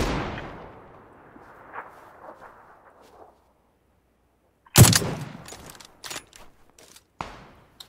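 Gunshots in a video game fire in several sharp cracks, one loud blast followed by a scatter of quicker shots and fading echoes, with quiet gaps between them.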